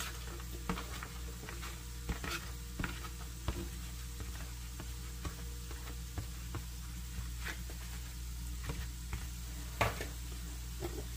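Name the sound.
tortillas and onion frying in a skillet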